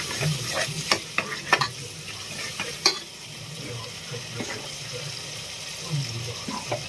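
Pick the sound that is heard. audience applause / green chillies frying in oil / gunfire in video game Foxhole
green chillies frying in oil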